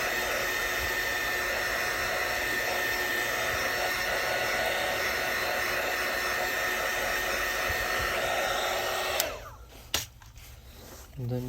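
A heat gun blows a steady, loud, hissing roar of hot air while warming the battery of a Samsung Galaxy S8 Plus during repair, then cuts off near the end, leaving a few handling knocks.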